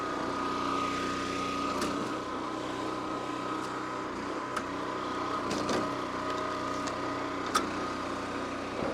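A commercial log splitter's engine runs in cold weather, a steady droning hum with a few sharp clicks and knocks from the splitting work, with no voices.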